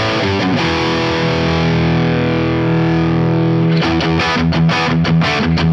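Electric guitar driven through a Soldano SLO overdrive pedal, with the volume raised and gain backed off: a sustained distorted chord rings for nearly four seconds, then choppy repeated strums follow, loud and with no voice over it.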